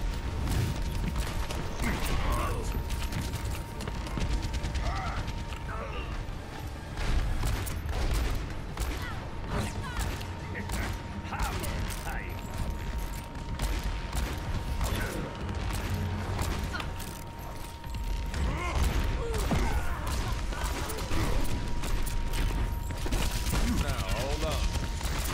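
Rapid gunfire, clicks and mechanical clatter from Overwatch competitive gameplay run in dense bursts alongside steady game sounds, with a player talking over much of the action.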